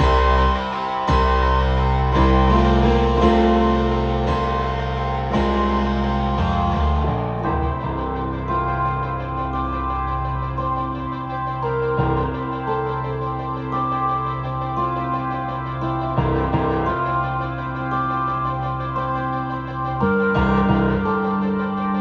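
Keyboard accompaniment with a low piano part playing a steady sequence of sustained chords with a full, layered tone, changing every few seconds over a continuous bass foundation, with no voices.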